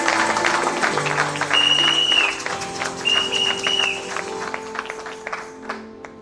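A church congregation claps and cheers for the Lord during a worship service: steady crowd applause with scattered shouts and a sustained tone, loud and close, tapering off toward the end.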